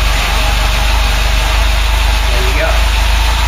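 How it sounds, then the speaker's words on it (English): A Ford Cortina Mk3 engine fires up and settles into a steady, loud idle with a constant low rumble that runs unbroken from start to finish. "engine fire up"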